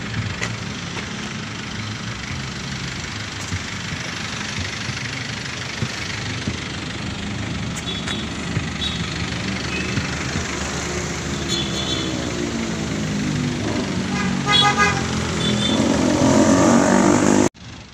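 A modified Kia cargo truck's engine runs at a steady, rough idle close by, with a louder rev surge toward the end.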